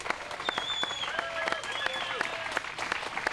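A spectator crowd at the 2023 European Disc Golf Championship, women's lead card, applauding a shot: sustained clapping with scattered whistles and cheers from close by.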